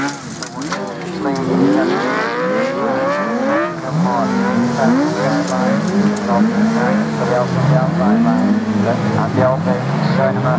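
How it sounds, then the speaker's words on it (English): Autograss Class 7 race cars drift around a dirt track corner at Scunthorpe, engines revving and wailing in overlapping rising and falling tones, loud and continuous, with a commentator talking over them. "Around that corner, drifting it round, well out towards the Armco."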